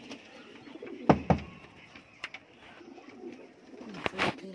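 Teddy pigeons, male birds offered for sale, coo in several soft bursts close by, with other bird calls scattered through the quiet background.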